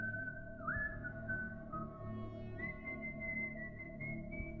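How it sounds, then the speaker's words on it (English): A lone, faint whistled tune drifts slowly and unevenly outside in the countryside at night, sliding between a few held notes over a low, steady background hum. "I was almost asleep when I heard whistling outside."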